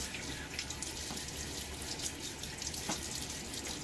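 A tap runs cool hard water steadily into a sink, a constant rushing splash with faint drips and spatters, heard up close.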